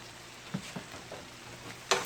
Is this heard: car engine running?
no